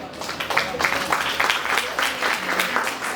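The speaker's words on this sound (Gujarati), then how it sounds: "તો એમને હૃદયના ઉન્માદથી અને ખૂબ તાળીઓથી આપણે વધાવીએ" An audience at a music festival event in Bilimora gives the judges a round of applause, a dense, steady wash of many hands clapping throughout the short stretch.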